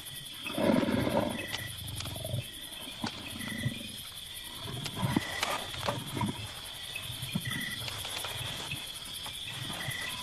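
Lions give low rumbling roars and grunts in a few close bursts over a steady background of chirping insects in the wild.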